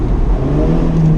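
A 2019 BMW Z4 engine pulls steadily under throttle in second gear, a loud, continuous mid-pitched hum with a rising whir and no pauses.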